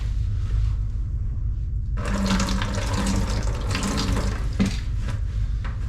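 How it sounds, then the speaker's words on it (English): Water poured over header wrap makes a splashing, rushing stream for several seconds mid-clip, close and fairly loud, ending with a few drips against a steady low background hum. "and pour the water over that"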